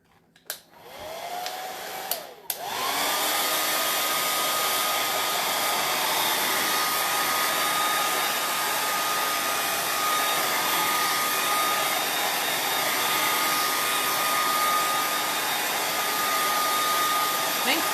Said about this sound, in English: I need to put the blow dryer up here so I don't have to keep reaching for it